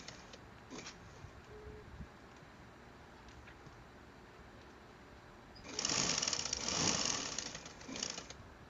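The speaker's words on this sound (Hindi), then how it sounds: "अब हम इसकी साइडों की सिलाई लगा लेते हैं।" Sewing machine stitching the side seams of a small baby frock made from fabric pieces, a faint low whir early on, then a louder steady run of stitching from about six to eight seconds.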